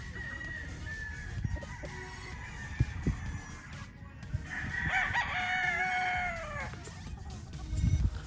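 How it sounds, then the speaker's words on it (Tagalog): A Golden Boy brood stag rooster crows clearly, a long drawn-out call rising mid-clip over faint outdoor background with a few other fowl sounds, at moderate distance. "Ito yung panlima nating brood stag na Golden Boy mga paps."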